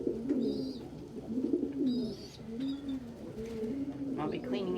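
Pet pigeons or doves coo indoors, a run of soft low throaty calls repeating steadily over about five seconds, with a few faint higher chirps and household noise behind them.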